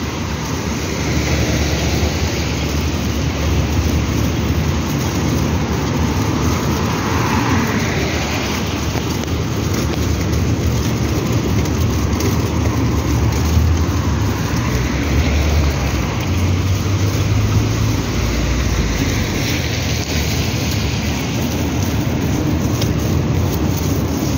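Heavy rain pours down steadily outside a school at afternoon pickup time, a dense continuous roar with no talking over it.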